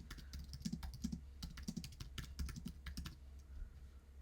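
Rapid clicking of keys on a computer keyboard, steady and close, with brief irregular pauses between bursts of typing.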